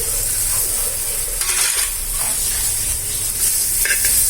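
Sliced onions sizzle loudly in a hot pan as a masala dosa filling cooks, a steady bright frying hiss with light stirring clatter, no voices.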